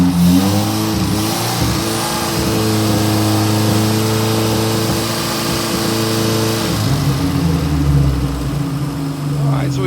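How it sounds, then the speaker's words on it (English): A 1961 Triumph TR3A engine, just started for the first time with a suspected coolant leak, revs up under throttle blips and then settles back, loud and close, with someone talking over it. "Let's see what our throttle response is here."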